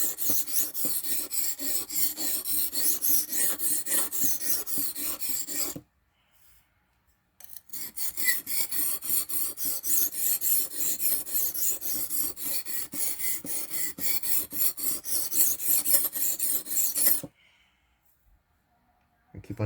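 A file smooths a butter knife edge with long runs of close, rhythmic rasping strokes, broken by two short pauses of silence.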